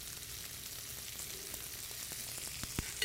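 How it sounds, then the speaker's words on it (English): Ground beef, pork and veal fry with bacon, celery, onions and carrots in a pan, giving a soft, steady sizzle with a few sharp crackles and pops near the end. "You cook it together with the bacon, the celery, and the onions and the carrots."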